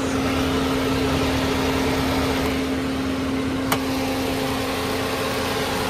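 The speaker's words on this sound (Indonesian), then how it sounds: "Suara mesin juga normal." The engine of a 2012 Toyota Yaris S Limited automatic runs at a steady idle with a constant hum and a prominent tonal drone, heard up close with a single brief click partway through.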